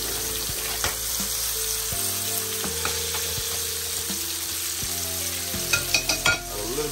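Food frying in cooking oil in a pan, a steady dense sizzle that runs the whole time, loud and close, with occasional stirring scrapes and a few sharper pops near the end.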